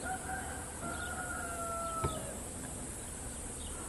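A rooster crows somewhere on a Greek island, a drawn-out call at moderate distance over a constant hiss of insects and outdoor ambience, with a brief knock partway through and no speech.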